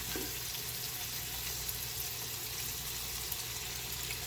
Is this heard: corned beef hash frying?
yes